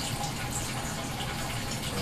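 Water drains steadily out of a DIY ebb-and-flow hydroponic system, a continuous close rushing gurgle with no pauses.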